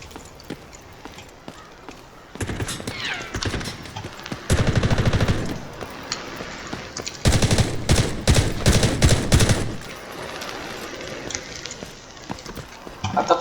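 Gunfire from a shooting video game, with rapid bursts of automatic fire growing louder in the middle stretch, mixed with scattered shots and background game noise.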